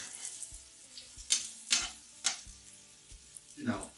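Eggs for a Spanish omelet are stirred in a frying pan over low heat, giving a few soft scraping strokes at an uneven pace over a faint sizzle, close but quiet.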